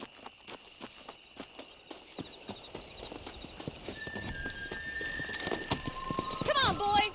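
Horse hooves in the video game Red Dead Redemption, rhythmic clip-clop speeding into a gallop and growing louder, ending with a whinny, with someone talking over it.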